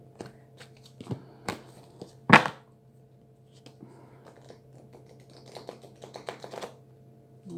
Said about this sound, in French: j'ai mélangé plein de sortes de cartes.